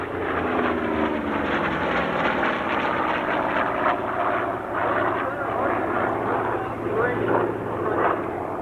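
A heavy radial-engine, inverted-gull-wing propeller aircraft drones loudly overhead at a 1995 air show in Clark County, Indiana, a throbbing engine roar that stays strong throughout, with people talking underneath.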